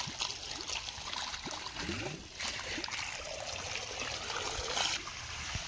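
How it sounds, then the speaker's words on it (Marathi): Water trickles and pours steadily into basins dug around trees beside a house, a continuous close-up splashing stream with faint background noise. "आळ्यांमध्ये पाणी भरतोय."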